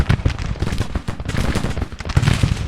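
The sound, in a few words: unit gunfire in Grand Tactician Civil War video game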